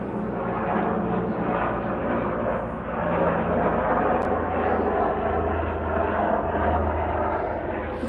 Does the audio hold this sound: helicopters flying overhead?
yes